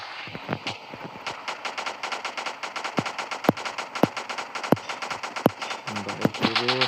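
Rapid machine gun fire from the Rope Hero video game, sharp repeated bursts with loud single shots standing out, fairly close and dense.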